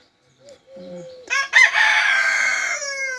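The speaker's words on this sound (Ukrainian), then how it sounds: "З добрим ранком, каже нам всім Петя" A rooster crows loudly and close by, one long drawn-out call following a few soft clucks and a brief rustle.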